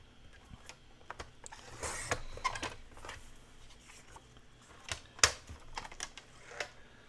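Scissors snip through junk mail paper in a quiet craft setting, giving a series of short, crisp cuts and rustles spread unevenly across the clip, with a couple of sharper clicks and no talking.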